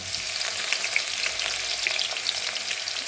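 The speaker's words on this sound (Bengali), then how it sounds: "আলুটা অল্প ভাজা হয়ে গেছে, তো আমি এখানে দেবো একটু রসুন কুচি" Potatoes with chopped garlic fry in a pan, producing a continuous close sizzle of hot oil with scattered small pops and crackles and no talking.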